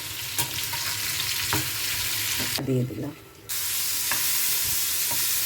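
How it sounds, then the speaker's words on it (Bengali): Pumpkin pieces fry in hot oil with a steady close sizzle and occasional clanks of a utensil, interrupted by a brief dip and a short spoken remark before the frying hiss resumes. "কুমড়োগুলো ভেজে নেব।"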